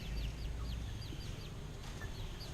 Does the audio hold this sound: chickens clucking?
yes